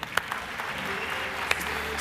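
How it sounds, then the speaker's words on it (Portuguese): Congregation applauding during a church service, steady dense clapping from a crowd with a few louder individual claps standing out, and a voice speaking over it. "vamos abençoar Jesus com um aplauso"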